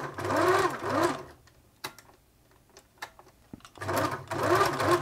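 A 1980s Singer Futura sewing machine runs in two short, loud whirring bursts, one at the start and one at the end, with quiet clicks and handling noises in between.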